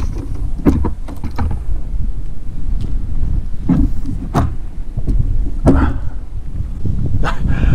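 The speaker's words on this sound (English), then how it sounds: "The wind is absolutely crazy" Heavy, gusting wind buffets the microphone on a kayak during a bass fishing trip, a loud continuous roar with sharp bursts and thumps, no talking.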